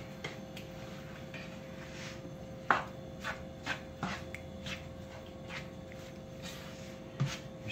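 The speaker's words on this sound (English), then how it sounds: "And then you want to start stirring all this up." A spoon stirs goulash with a little tomato sauce in a pot, making soft, irregular scrapes and knocks with a few sharper clinks against the pot, close but quiet.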